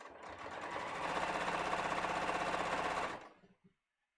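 A sewing machine runs steadily for about three seconds while stitching a dress lining, a fast even whir that is loud and close, then slows and stops with a faint click.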